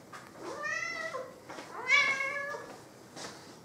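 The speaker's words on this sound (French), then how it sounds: "Pourquoi tu miaules, bébé?" A domestic cat meows twice indoors, two drawn-out, rising-and-falling cries close by, followed by a softer trailing call.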